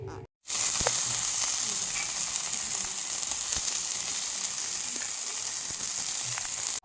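Green chilies fry on a hot tawa in a home kitchen, a loud steady sizzle that begins abruptly after a brief silence and holds without a break, with a few faint clinks over it.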